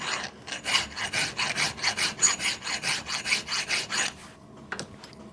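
A hand metal file working a cylinder drain valve linkage part held in a vise, steady rhythmic rasping strokes about three per second, close and loud, stopping near the end with a small clink.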